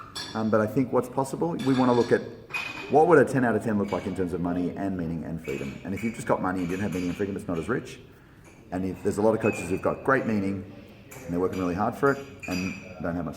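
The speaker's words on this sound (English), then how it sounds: "we're in a seminar room and they're clinking cups right now." Cups clink now and then in a seminar room, small glassy taps half buried under someone speaking continuously at close range.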